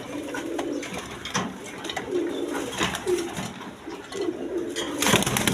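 Indian Kal Dum pigeons coo steadily and close up in a busy pigeon-keeping space, with a constant noisy background and a few louder bursts.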